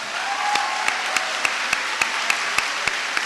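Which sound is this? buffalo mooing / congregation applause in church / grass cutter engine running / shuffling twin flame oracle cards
congregation applause in church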